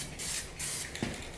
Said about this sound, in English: 10 to 12 inches away from the rim, you're going to spray.